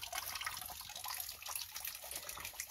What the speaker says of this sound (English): turn the water back on, get them full